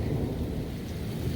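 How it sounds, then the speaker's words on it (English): Rain pours steadily through a severe late-April thunderstorm on Dauphin Island, Alabama, with a deep rumble of thunder rolling underneath, loud and continuous with no voices. "So we have a severe thunderstorm moving in."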